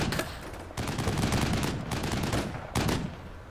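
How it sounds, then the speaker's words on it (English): An M25 gunner in the video game Black Sea fires airburst rounds, producing dense, rapid bursts of gunfire in two or three heavy volleys with brief pauses between them. "You can see the M25 putting some airburst rounds over them."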